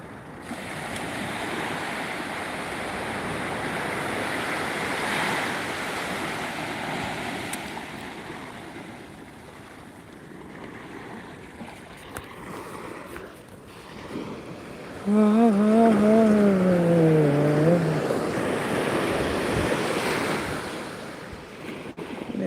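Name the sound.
sea waves on a beach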